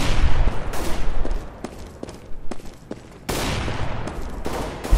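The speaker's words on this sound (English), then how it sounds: "A whole lot of shooting going on inside" Dense bursts of automatic gunfire from Counter-Strike: Global Offensive, heavy rattling volleys that drop back, then return as a sustained loud barrage near the end.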